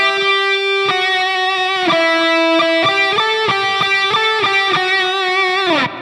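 A distorted electric guitar plays a solo line. Heavy, sustained notes step and slide upward in a repeating phrase, loud and close, with no voices.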